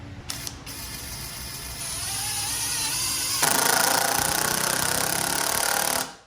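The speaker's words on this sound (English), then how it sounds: "It keeps a very slow pace initially so that you can make sure the screw is set into the wood" A SKIL PWRCore 20 impact driver runs continuously while driving a screw into wood on its slow-start setting, a whirring mechanical drone that jumps louder and faster midway, then stops abruptly.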